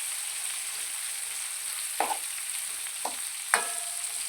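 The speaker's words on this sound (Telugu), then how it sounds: "అన్నీ బాగా కలుపుకొని మూత పెట్టి మగ్గబెడదామండి" Gongura dal mixture sizzles steadily in a pan with a constant frying hiss, broken by three or four sharp scraping stir strokes.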